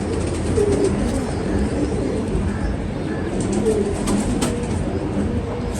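Pigeons coo softly and repeatedly against a steady background hum, the low rolling calls overlapping at a moderate distance.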